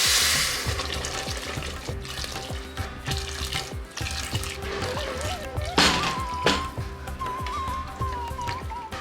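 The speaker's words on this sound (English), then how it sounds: "Then pouring in hot water," Hot water pours steadily into a pot of rice in a home kitchen as biriyani is cooked. It makes a continuous splashing rush, with a few clanks of utensils and a rising tone as the pot fills.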